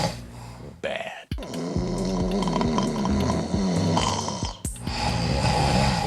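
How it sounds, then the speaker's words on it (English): A man snores loudly and heavily, with rough rattling breaths repeating in a slow rhythm, close up and with no talk. "I snore."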